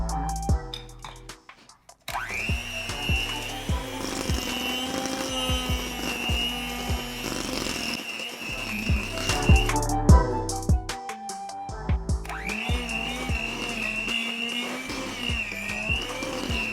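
Electric mixer working dry ingredients into Oreo cookie dough, starting after a short pause: a steady whirring motor with repeated knocks and clinks of beaters against the bowl, briefly dipping midway, no talking.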